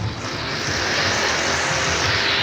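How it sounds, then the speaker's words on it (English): A loud, steady mechanical rumble and roar with a clanking undertone as the Dragon's Fury roller coaster train is hauled up its lift hill close by at Chessington, with no talking. "There's the loud lift hill."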